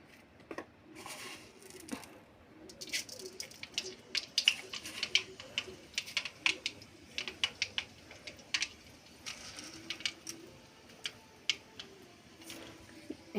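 Mustard seeds spluttering and popping in hot oil in a home kitchen, giving dense, irregular crackles and sharp pops over a faint background hiss, rising and falling in bursts throughout.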